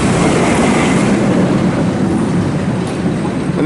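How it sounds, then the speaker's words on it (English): Steel Arrow roller coaster train at Dollywood rushing past up close, a loud steady rumble and roar of wheels on track filling the whole moment without pause. "Here comes the train. It's going to come flying out of here up into this giant loop over here."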